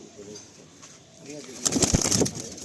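Pigeons in a loft giving soft, low cooing calls, with some faint rustling and a louder burst of wing or body movement later on.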